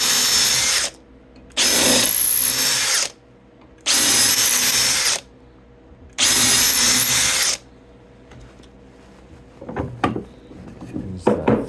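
A power drill drives screws into a softwood tree swallow nest box in four loud, close bursts of whining motor, each lasting over a second, separated by short pauses, followed by lighter clattering handling noises at the end.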